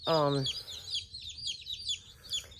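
A backyard flock of chickens clucks and chatters close by, opening with a loud drawn-out call followed by a run of quick, soft clucks and chirps.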